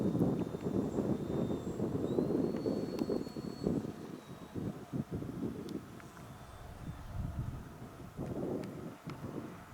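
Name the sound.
Durafly Me 163 Komet RC rocket plane flying, slowing to land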